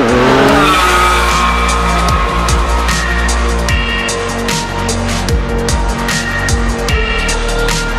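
The engine of a DSK Benelli TreK 1130 motorcycle pulls hard while riding, a loud continuous roar with shifting revs and a sweeping pitch change at the start.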